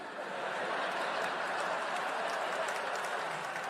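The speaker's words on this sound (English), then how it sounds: "Slow applause, all right." A stand-up comedy audience applauding: a continuous, even rush of clapping from a large crowd, somewhat distant, with faint chuckles mixed in.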